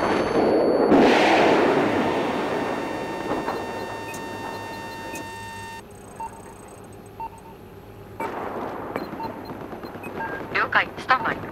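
A cruise missile launches in Battlefield 4, opening with a loud rushing blast that fades into a lower rumble, followed by quieter game tones and a later burst of crackling noise.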